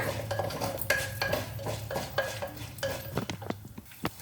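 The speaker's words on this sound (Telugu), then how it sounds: "ఇప్పుడు ఈ పోపులు ఎగుతున్నాయి కదా" Tempering spices splutter and pop in hot oil while making chutney, mixed with ringing clinks of a metal spoon against the pan.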